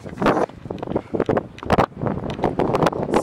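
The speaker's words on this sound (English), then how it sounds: "Sorry of the wind." Gusty outdoor wind buffets the microphone in loud, uneven surges with roaring bursts, heard beside a horse being readied for a ride.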